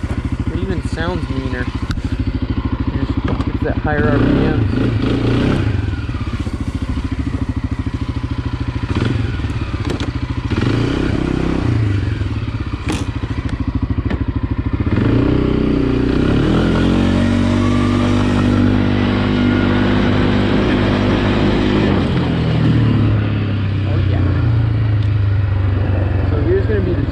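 A Can-Am DS250 ATV engine with carb spacer removed revs hard and climbs to a high, buzzing whine, close and loud, with clattering and a voice speaking over it.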